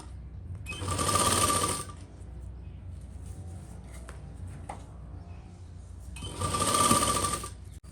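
A sewing machine stitches lace onto the neckline of a lined suit in two short whirring runs about a second long, with a quiet pause of light handling noise between them.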